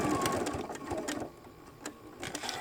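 Sewing machine stitching an X pattern with back tacks on a shoulder bag, a fast rattling whir in short bursts with brief pauses between runs, close and moderately loud, no voices.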